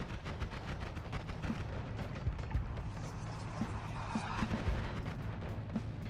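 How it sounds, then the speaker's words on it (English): Repeated explosions in the video game Noita, a dense barrage of booming blasts and crackling bursts that overlap continuously and fairly loud, with several heavier thuds standing out. "So many explosions!"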